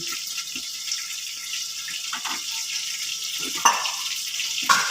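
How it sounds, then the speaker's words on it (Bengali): Water poured into a pan of frying vegetables and fish head for a Bengali pui shak chhyachra, a steady hiss of sizzle and splashing water with a couple of brief clinks, close and continuous. "এবার সব সবজি ডাটা ভালো করে সিদ্ধ হওয়ার জন্য আমি অল্প জল দিচ্ছি"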